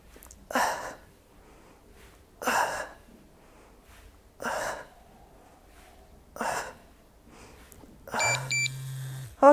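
A workout timer gives a brief electronic beep near the end of a core and deadlift exercise session, following four heavy, rhythmic exhalations spaced evenly apart.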